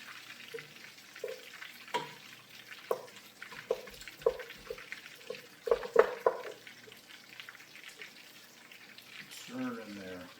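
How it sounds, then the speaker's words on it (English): Butter melts with pasta in a hot pot, giving a low sizzle under a series of sharp clanks and scrapes from stirring, with a brief voice near the end. "Stir in there, let that heat break down that butter, melt it all."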